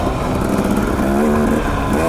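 A dirt bike engine labors along a rugged Idaho trail on side-hill terrain near a ledge, producing a steady, loud motor drone whose pitch rises and dips slightly with the throttle, close and continuous throughout.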